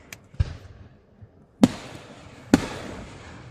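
Fireworks exploding at night, several sharp booms spaced about a second apart, each trailing off in echoing rumble and crackle, fairly close and loud.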